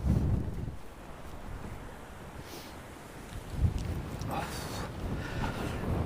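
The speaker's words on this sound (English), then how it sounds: "It's very windy." Strong wind buffets the microphone in a constant low roar at a riverside fishing spot on the River Tyne, Newcastle, with gusts swelling and fading.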